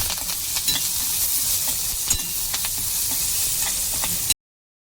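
Onion sizzling and frying in a hot tempering of oil and garlic while a spoon stirs it, a steady close hiss with scattered scraping clicks, then a sudden cut to silence near the end.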